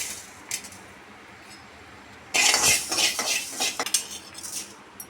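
A pan is set on the stove and fenugreek seeds are tipped in while making masala brinjal; after a quiet stretch comes a sudden metallic clatter and scattered rattling that fades off.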